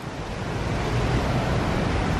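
Strong wind roars outdoors at a resort bus stop, a loud, steady low rumble buffeting the microphone throughout with no pauses.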